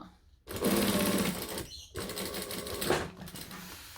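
Sewing machine stitching and back stitching a fabric clutch, bursts of fast mechanical whirring close by, broken by two short pauses where the stitching direction changes.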